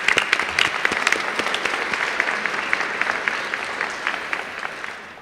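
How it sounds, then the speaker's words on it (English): An audience at a National Honor Society induction ceremony claps together in loud, sustained applause that holds steady and then slowly thins out toward the end. "Would you join me in giving them all a round of applause for participating this evening?"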